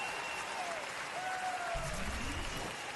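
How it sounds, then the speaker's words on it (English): A curling crowd in Red Deer applauding a shot at a women's championship draw, a broad wash of clapping that swells louder near the end. "makes it 2 to the thunderous applause here in Red Deer"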